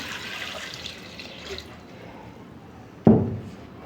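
Water is poured into a pressure cooker holding a kilo of beef for yakhni, with a soft trickle followed by a sudden louder splash near the end.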